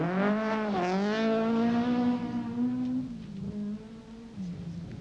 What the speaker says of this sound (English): And more high-class driving from McKinstry.